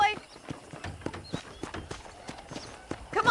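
Hoofbeats from a horse in the Red Dead Redemption game, a steady rhythmic clip-clop of close, crisp strikes over a few seconds, with some speech alongside.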